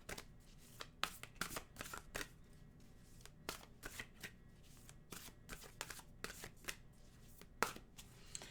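Nature's Whispers oracle cards are shuffled by hand in a quiet room, a string of soft, quick riffling bursts repeating irregularly at close range, faint and alone.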